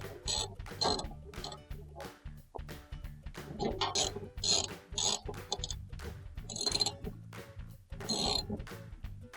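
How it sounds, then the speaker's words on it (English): A hand ratchet clicks in quick, uneven bursts while tightening the screws of a Frigidaire oven terminal block, the sharp pawl ticks close and fairly quiet, broken by short pauses. "just grab your ratchet and finish it with that."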